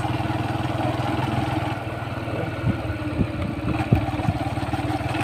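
A motorcycle engine idles with a steady, fast low putter during beginner riding practice, joined by a few sharp clanks and bumps near the end.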